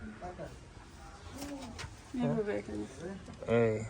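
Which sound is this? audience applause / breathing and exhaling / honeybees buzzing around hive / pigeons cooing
pigeons cooing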